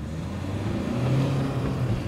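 A 2013 Nissan X-Trail 2.0 diesel with sluggish, poor performance pulling hard in first gear, its engine a loud, steady drone with the pitch climbing slightly as it accelerates.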